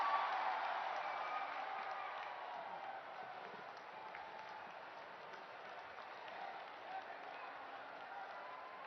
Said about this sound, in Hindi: बहुत जोरदार तालियों के मध्य उनका स्वागत करें